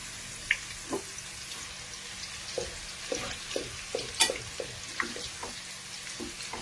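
Banana chips bubbling in hot oil during deep frying, with scattered crackling pops and spits rising over a steady low sizzle, close and fairly quiet, no talking.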